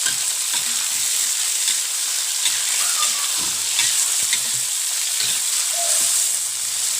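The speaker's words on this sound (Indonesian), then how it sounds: "Lalu tumis-tumis terus atau tumis kembali sampai benar-benar wangi dan tidak gosong ya" Chopped tomatoes and sliced chili stir-fry in a hot pan, giving a steady loud sizzle and hiss broken by the soft scrape and clack of a spatula stirring.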